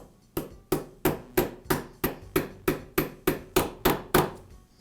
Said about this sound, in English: I'll place the socket on the bearing race and tap the bearing into place.